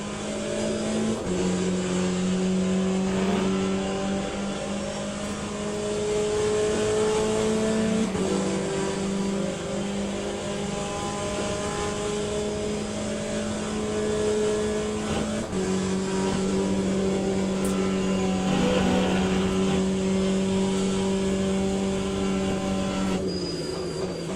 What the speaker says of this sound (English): Here's a hypercar.